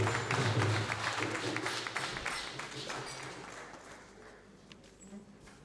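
Audience applause fills a land surveying seminar hall, a dense steady clapping that starts loud and gradually tapers off toward the end with no one speaking.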